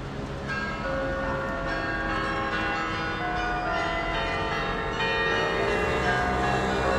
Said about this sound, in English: They run the bells for me.